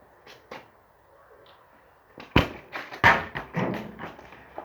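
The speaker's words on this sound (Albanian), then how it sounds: "do t'i fus 5 goditje atje te kjo arka këtuja. Me këtë topin." A ball repeatedly kicked or thrown against a wooden box, several sharp thuds spaced a second or so apart, close and distinct over a quiet background.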